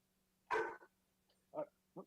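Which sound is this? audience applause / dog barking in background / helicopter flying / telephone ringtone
dog barking in background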